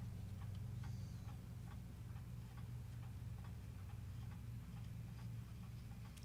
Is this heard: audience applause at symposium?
no